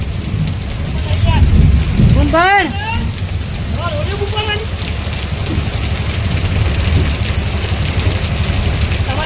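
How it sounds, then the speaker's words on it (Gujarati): Heavy rain pours down in a continuous loud, dense roar, with people talking over it now and then. "પણ રોજ આવો વરસાદ નહીં આવતો ને યાર."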